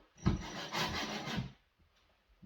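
Screw turned by hand into a wall, a close gritty rubbing and scraping of wood or plaster lasting about a second, then quiet.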